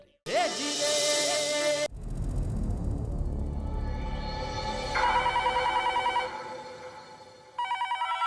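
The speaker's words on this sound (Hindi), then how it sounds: "वो मैं घर पे फोन लगा रहा हूँ, घंटी भी बज रही है" A home telephone rings loudly in a sitcom scene, a bright repeating bell burst followed by a gap and further electronic ring tones later, with no talk over it.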